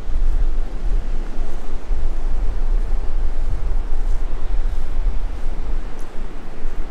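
Surf rolling in on Myrtle Beach along the hotel-lined oceanfront on a rough day, a steady loud broadband roar with wind buffeting the microphone throughout and no clear individual wave breaks.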